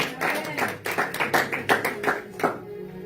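Congregation at a church service clapping in rhythm to acclaim Jesus, steady group claps fairly close, fading out toward the end.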